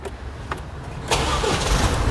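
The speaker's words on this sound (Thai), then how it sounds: "เดี๋ยวขอสตาร์ทรถก่อนนะ" An Isuzu MU-X SUV engine cranks and catches midway, then settles into a steady, close idle after a few faint clicks and knocks beforehand.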